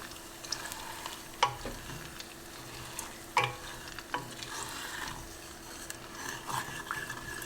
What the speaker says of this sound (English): Then we're going to add our chili flakes and a 1/2 teaspoon of salt. And just give that a mix.